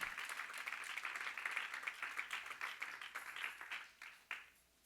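Church congregation clapping during a sermon, a fairly quiet but full round of hand claps with distinct individual claps that thin out and fade toward the end.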